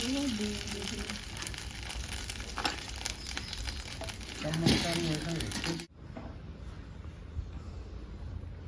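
Fish roe sizzles and crackles in hot oil in a pan, a busy continuous frying hiss with occasional stirring clatter under a voice talking, then dropping to a quieter steady sizzle.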